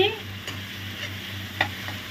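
Masala radish with tomatoes being stirred in a frying pan, a steady close sizzle broken by a few sharp scraping clinks of the spoon against the pan.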